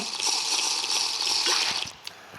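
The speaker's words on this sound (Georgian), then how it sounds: "ეხლა წყალს დავლო" Water is poured in a steady, close stream with a bright splashing rush that stops near the end, leaving a few faint drips and clinks.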